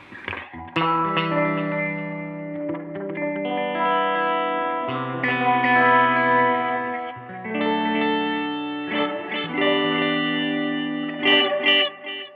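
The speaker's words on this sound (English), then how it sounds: "Third delay head with reverb." Guitar notes and chords run through a BOSS RE-20 Space Echo set to its third delay head with reverb, with a sustained, smeared wash of repeats trailing each phrase, loud and continuous with no talking.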